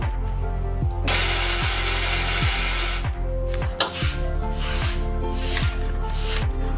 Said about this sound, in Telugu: ఇప్పుడు దీన్ని మనం మిక్సీకి పట్టుకుందాం